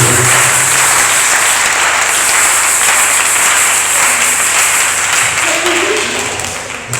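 A church congregation breaks into loud, sustained applause and cheering during a Sunday service, a dense wash of many clapping hands with crowd voices, fading slightly at the end.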